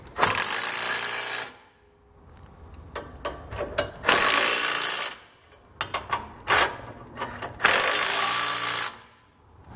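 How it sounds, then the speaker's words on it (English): A socket wrench snugs down bolts on a B and W underbed fifth wheel kit fitted to a 2021 Ford F-250; close bursts of loud ratcheting and clicking stop and start several times with quiet gaps between. "Grab our socket and snug them down."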